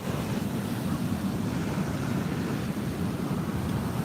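Ocean waves at an East Sea beach in Korea roll in as a steady, loud wash of surf with a broad rumbling low end and wind buffeting the microphone throughout.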